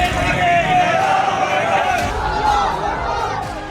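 A dense crowd of worshippers outside an Eidgah in Moradabad during Eid prayers, a loud continuous mass of shouting voices with a rising chant running through it, close and steady throughout.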